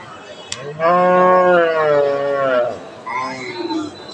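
A cow at a crossbred cattle market gives one long, loud, drawn-out moo lasting about two seconds, followed by nearby voices talking over the busy market background.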